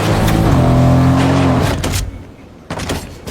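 A video-game car engine roars loud and steady, then drops away, followed by a few dull clunks and knocks.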